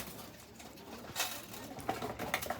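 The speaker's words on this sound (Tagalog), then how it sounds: "Marami pa mga kalapatids" Pigeons, including blue bar and checkered birds, coo softly while being fed, with faint fluttering and pattering close by and low murmurs in a quiet outdoor setting.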